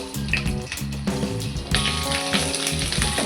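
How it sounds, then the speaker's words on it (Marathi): Green chillies dropped into hot oil in a kadhai, crackling and hissing loudly and steadily with bright spitting bursts throughout, no voices. "आता यामध्ये आपल्याला या मिरच्या टाकायच्या आणि मिरच्या इथे भाजून घ्यायच्या"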